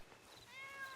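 A cat in the video game Red Dead gives a single faint, drawn-out meow that rises and trails off over a quiet background.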